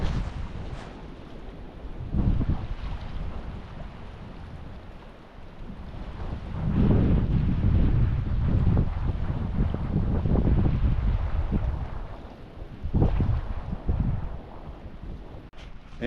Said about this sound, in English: We wake up this morning to 40 degrees and strong winds.